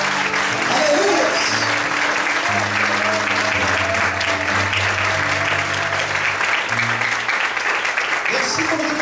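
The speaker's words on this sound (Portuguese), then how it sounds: "Todos podem aplaudir e exaltar Jesus essa noite." A church congregation applauds during a worship service, loud sustained clapping over a low held musical tone, continuous from start to finish.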